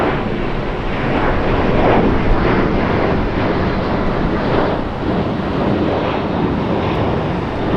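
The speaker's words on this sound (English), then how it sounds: "I'm gonna let Asiana taxi down there and we'll catch up with it on its takeoff." An Asiana airliner taxis at LAX, its engines a steady broadband roar mixed with wind buffeting on the microphone, continuous for about eight seconds with no talking.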